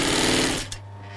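A sewing machine stitches a leather handbag in a fast, loud mechanical whir up close, then stops abruptly with a soft clunk, leaving a low hum.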